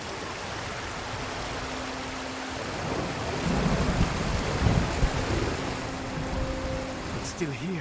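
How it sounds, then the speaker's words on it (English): In the video game Ghost of Tsushima, a waterfall roars as a steady, broad rushing wash that swells in the middle. It carries on throughout, with voices talking over it and a faint tonal hum in the background. "Under the waterfall."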